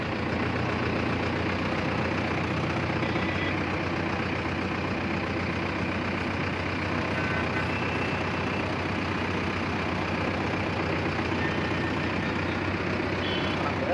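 A Mahindra Novo 605 DI tractor engine runs steadily with a dense, continuous low diesel rumble at constant loudness, close and unbroken throughout, with no voices.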